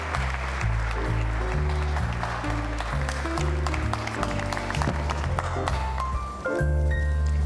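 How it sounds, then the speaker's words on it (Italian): An audience at an Italian medical award ceremony applauds over loud, sustained music, with the clapping partly buried beneath the musical tones throughout. "Gli facciamo un applauso."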